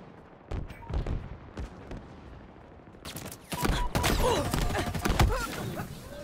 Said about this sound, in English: Well, they got a sniper.